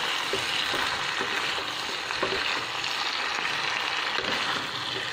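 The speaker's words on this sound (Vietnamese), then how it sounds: "Mình sẽ xào cho cái phần này nó gần gần chín thì mình mới cho hành tây và lá rau cần vào." Sweet and sour pork ribs stir-fry in a pan with a steady, dense sizzle and crackle, with occasional scrapes and clinks of stirring, continuous and fairly loud throughout.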